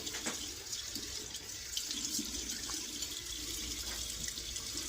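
Cold water runs from a tap into a sink during a wet shave with soap, a steady close splashing stream with faint clinks now and then and no voices.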